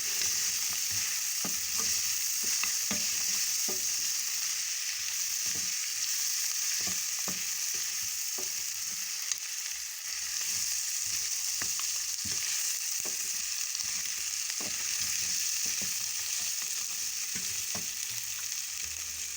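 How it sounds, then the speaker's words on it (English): Vegetables fry in a pan for a homemade goat stew with tomato, giving a steady, close hiss and crackle, punctuated by scattered clicks and scrapes of stirring throughout. "Then I fry. The vegetables have to be brownish,"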